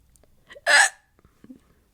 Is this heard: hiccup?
yes